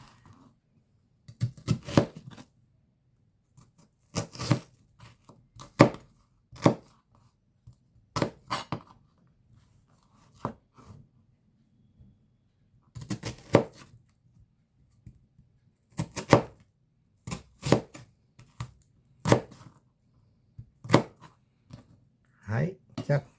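Onion being cut with a knife on a board before browning, irregular clusters of sharp close chops and taps separated by quiet pauses, with a voice talking at times.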